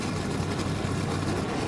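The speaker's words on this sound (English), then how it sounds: "Drivers, start your engines!" NASCAR truck engines rumble at idle just after starting at the Mid-Ohio road course, a dense low droning roar that holds steady and loud throughout.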